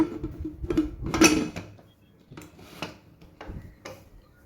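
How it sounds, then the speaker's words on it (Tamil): Metal clatter of a pressure cooker lid being set and closed, a few sharp clanks close by, followed by quieter knocks and handling sounds. "குக்கருக்கு மூடி போட்டுடலாங்க"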